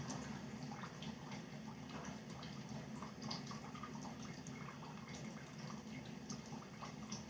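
A tap runs steadily while hands are washed in a home kitchen during salmon patty cooking, a constant close rush of water with faint splashes and drips and no talking.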